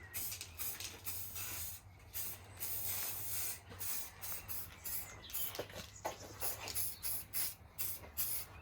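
A spray paint can hisses in repeated bursts over Peugeot 205 car parts, close and fairly loud, with short pauses between passes and a faint rattle in the background.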